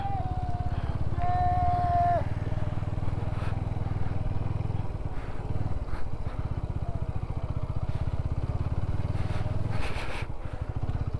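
Motorcycle ridden on a high mountain road near the world's highest post office, its engine a steady close drone throughout with wind and road rumble, and a brief scraping clatter near the end.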